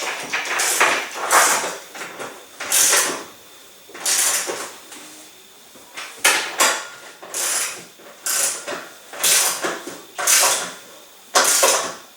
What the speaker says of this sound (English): Just use a 5/8 wrench, and they'll come right out